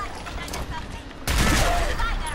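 Gunfire sets off an explosion in the post-apocalyptic shooter Fallout 4: a sudden loud, broadband blast cuts in partway through and keeps roaring after quieter game ambience.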